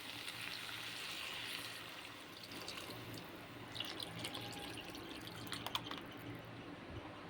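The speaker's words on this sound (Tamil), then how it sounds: "நம்ம புளியை கரைச்சி வச்சுருக்கோம்ல, அந்த தண்ணியை வந்து ஊற்றிடுவோம்." Tamarind water poured into a cooking pan in a home kitchen, a soft trickling and splashing stream with a few drips, fairly faint and close, with no talking.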